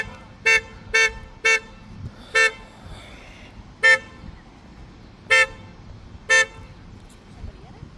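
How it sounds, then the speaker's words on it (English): A car horn or alarm outside sounds in short loud toots, seven evenly spaced honks over a low background with faint voices. "car going off."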